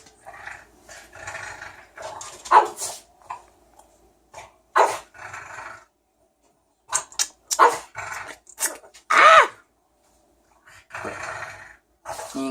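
A dog fight erupts in irregular bursts of harsh barking and snarling growls, loud and close, separated by short silent gaps.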